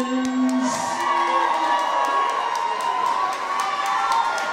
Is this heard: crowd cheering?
yes